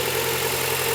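A Honda Prelude engine with 113k miles, running rich and flooded, idles on its own at an even, steady rumble close by. No talk is heard.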